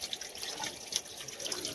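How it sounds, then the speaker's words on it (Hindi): Spring water welling up from under the ground at a Himachal village source, a steady close trickle and splashing flow with small drips, heard alone without voices. "ये देखो मिट्टी के नीचे से आता है पानी हमारे यहाँ पे, चश्मे का पानी"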